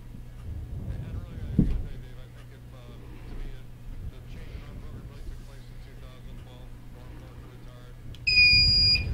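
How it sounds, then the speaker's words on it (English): A quiz-show buzzer at a high school academic challenge broadcast sounds near the end as a sudden loud, sustained electronic tone after a stretch of quieter talk. "Blake, right on the buzzer"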